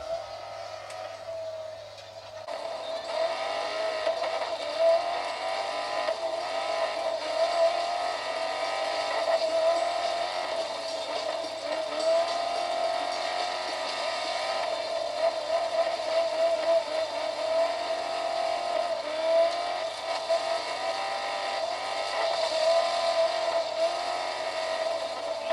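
A rally car engine from a rally racing video game drones steadily with a strong tonal hum, rising and falling slightly as it revs, loud and continuous from start to finish.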